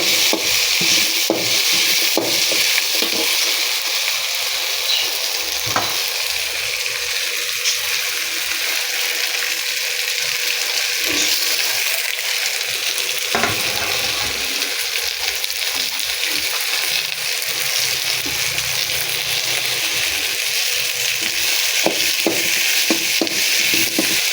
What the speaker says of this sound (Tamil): இது மட்டும் நல்லா எண்ணெயில் திருவிக்கோங்க.